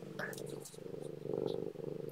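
Low, rhythmic purring from a cat, soft and close, pulsing steadily for about two seconds with brief higher noises over it.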